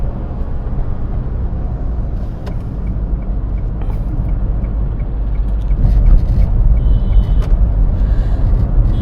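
A Hyundai i20 diesel car's engine drones under load as it pulls through the gears, a steady close rumble that swells louder toward the end with faint clicks on top.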